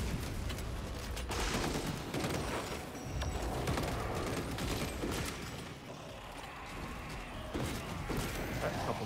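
Gunfire in a shooter video game: dense, continuous bursts of shots and impacts in a loud, chaotic battle mix, with no talking.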